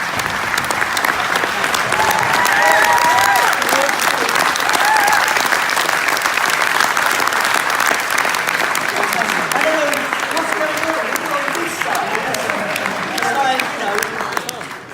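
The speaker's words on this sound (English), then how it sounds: "take our first set of applause for making tonight possible" Audience at an awards ceremony applauds the event's sponsors with sustained, dense clapping from a large crowd, steady and loud for the full stretch, with faint voices and murmurs mixed underneath.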